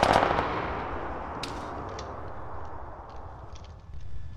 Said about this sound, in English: I'm hearing the mechanical units open fire